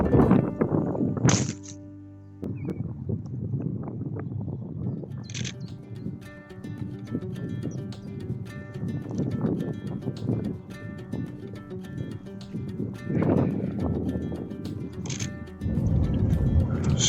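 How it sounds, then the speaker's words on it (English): A common chiffchaff sings at a Thameside nature reserve, repeating high, clear notes at intervals over steady outdoor background noise, with no talk. "So I can hear chiff-chaff."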